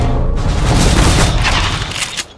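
Gunfire in the video game Counter-Strike: Global Offensive: a loud, dense burst of rapid shots merging into a continuous booming roar for about two seconds before cutting off.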